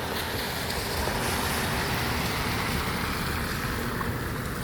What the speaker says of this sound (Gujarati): જો આ ગાડી આવે છે, કેટલું પાણી ઉડાડે છે.